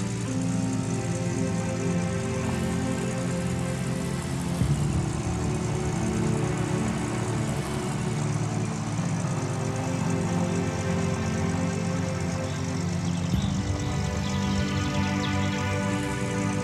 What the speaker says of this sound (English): So let's just head back to my plane that I rented.